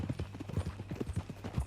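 Horse hooves clip-clopping in Red Dead Redemption 2, a quick irregular run of close, low thuds in steady walking rhythm, heard alone without voices.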